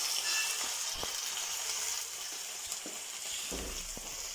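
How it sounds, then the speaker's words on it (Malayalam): Marinated chicken frying in hot oil in a pan makes a continuous bright sizzle at close range. A few soft clicks and taps of handling break through it, and no one speaks. "ഇനി ഇത് ഒരു പാൻ വെച്ചിട്ടുണ്ട്, അതിലേക്ക് ഓയിൽ ഒഴിച്ച് കൊടുത്തതാണ്."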